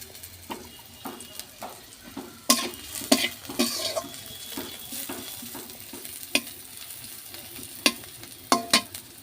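Cumin seeds hit hot oil in a wok on a stove, giving a soft continuous sizzle marked by sharp scattered clinks and scrapes of a spoon against the pan, fairly close and quiet, with no talking.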